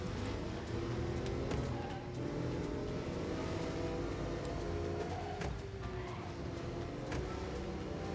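A car in a video game drives fast, its engine holding a steady, loud roar with a slight rise in revs. The sound runs continuously from start to finish, with no talking over it.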